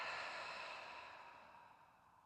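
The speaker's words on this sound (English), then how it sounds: "let's take a deep breath in through your nose, filling up your lungs. And then exhale side out." A single deep, slow breath through the nose, heard close and soft in a quiet room, with an airy exhale that gradually fades over about two seconds.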